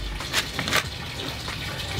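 Water runs from a pipe into a pool, giving a steady, fairly quiet gushing and splashing that fills the whole short stretch, with a couple of brief louder surges.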